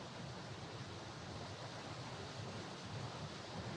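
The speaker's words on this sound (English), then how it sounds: "on the other side of this dam, the water is also flowing very, very quickly, very intensely" The Mississippi River pours over a dam during a flood, making a dense, steady roar of rushing water with no pauses. It sounds broad and constant and fairly faint, with no voices heard.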